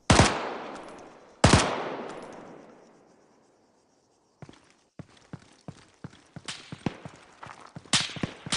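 Gunfire in Arma 3 with the Antistasi+ Western Sahara Creator DLC: two loud close shots with long echoing tails, a short pause, then a ragged string of sharper rapid shots and clicks.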